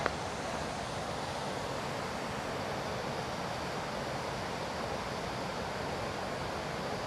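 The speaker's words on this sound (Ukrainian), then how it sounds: "Ось такий от водоспад тут." A waterfall seen from a gravel randonneur cycling route, giving a steady broadband rush of falling water that stays even and fairly faint for the whole stretch, with no voices.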